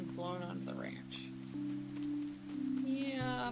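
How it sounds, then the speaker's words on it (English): Rain patters steadily in the Paleo Pines 2 video game, a soft constant hiss under game music and a person talking over it. "And it's raining"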